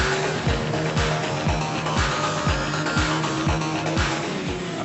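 GT Cup racing Ferraris at Donington spin and skid on track, engines droning loudly with a steady repeating pulse and tyre noise throughout, with no talk heard.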